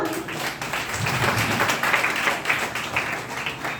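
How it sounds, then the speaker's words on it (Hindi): Audience applause at a celebration for IMC pin achievers, a crowd clapping steadily with scattered sharper hand claps, close and fairly loud for a few seconds without speech. "उन लोगों के लिए तालियां"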